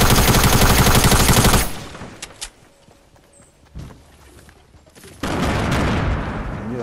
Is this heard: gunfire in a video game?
yes